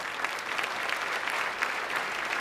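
An audience at a charity luncheon applauds steadily, a dense, even wash of many hands clapping at moderate distance with no break.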